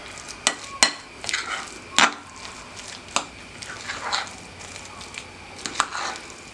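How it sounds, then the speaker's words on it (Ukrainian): Spoon stirring a chocolate cake's cherry filling in a bowl, with sharp scraping clinks against the side and soft wet churning, close and fairly quiet, with no talking. "тепер усе гарно перемішую до однорідної маси"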